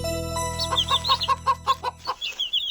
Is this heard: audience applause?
no